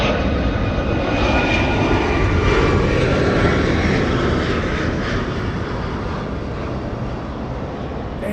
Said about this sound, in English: screaming Rolls-Royce engines powering that 757